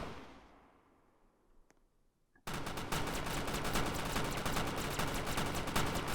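A defense tower in the Roblox game Toilet Tower Defense fires in a dense, continuous burst of rapid gunshots that starts abruptly after a quiet lead-in and keeps up loudly to the end.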